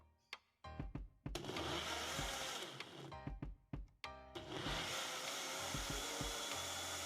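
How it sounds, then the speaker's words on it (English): A blender purees radish and garlic in loud whirring bursts, stopping and restarting several times with brief clunks before running steadily, close and dominant. "So you want to blend it until it's smooth."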